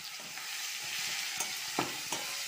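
Chopped onions with garlic paste fry in a hot wok, a steady bright sizzle with a few louder crackles and spatula scrapes.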